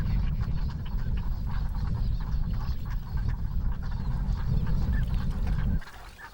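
A flock of ruddy shelducks and common shelducks at a winter wetland at Cheonsu Bay, a dense chorus of honking and quacking calls overlapping continuously, moderately close, then suddenly dropping away near the end.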